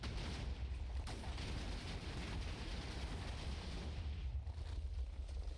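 Minecraft TNT charges, one of 2 and one of 13, firing from dispensers at separate timings: a dense, continuous rumble of blocky explosions with a sharper burst near the start, loud and sustained throughout.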